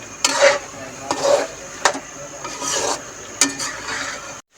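Chicken karahi with green chillies stir-fried over high heat in a karahi, with loud scraping and stirring strokes repeating every second or so over a steady close sizzle, no talking.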